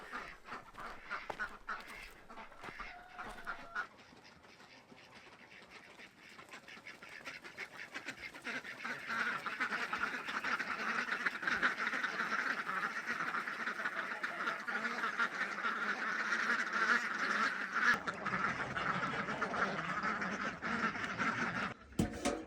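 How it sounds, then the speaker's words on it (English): A flock of farm ducks quacks steadily and loudly close by, the chatter building and staying dense throughout with no voices. "Ducks are laughing at me again."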